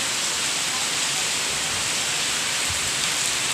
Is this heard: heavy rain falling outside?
yes